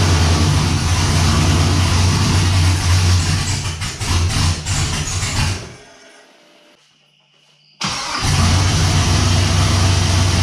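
A GM LQ4 V8 swapped into an F-Body car starts for the first time while cold, running with a loud, rough idle and revs, cutting out into near silence, then catching again and roaring back at full volume.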